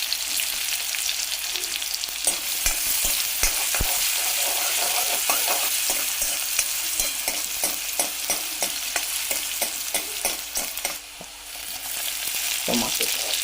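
Onion fries in a pan with a steady sizzle while a utensil stirs and scrapes through it in repeated quick strokes, close and continuous.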